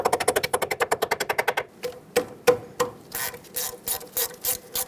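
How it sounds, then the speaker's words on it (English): Rapid clicking of a 10mm socket ratchet working a rusty bracket bolt on a 2007-2014 Chevrolet Silverado 2500 HD, a fast even run of clicks, then slower separate strokes and scraping turns close up. "Put a 10mm socket on it and remove it."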